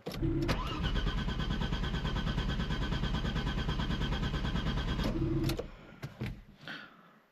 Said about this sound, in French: On force pas non plus sur le démarreur 20 secondes.